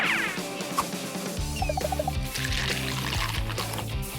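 Water is poured into a small homemade animal enclosure, a steady trickling pour with splashes and a few clinks partway through, fairly close and loud.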